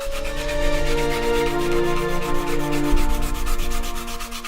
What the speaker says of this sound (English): Then a little bit of sanding to clean up the carving and the file marks.